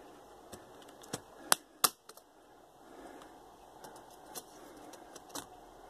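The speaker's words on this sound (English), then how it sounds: "You're gonna put the screwdriver underneath there and just finesse it up" A screwdriver pries up the back flap of a Dell Latitude D620 or D630 laptop, giving a series of sharp plastic clicks and snaps, two louder ones early, over quiet room noise.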